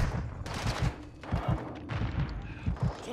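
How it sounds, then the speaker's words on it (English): Bursts of heavy gunfire in Modern Warfare II, rapid thudding shots coming in uneven clusters, moderately quiet and dense throughout. "Taking heavy fire."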